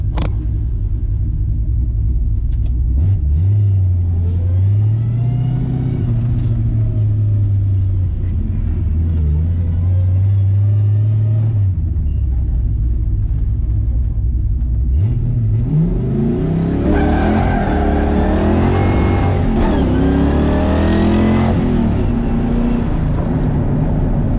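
A Ford Fox Body car with a T5 gearbox, engine rumbling low and close at first, then revving hard and launching into a loud rising acceleration with shifting pitch.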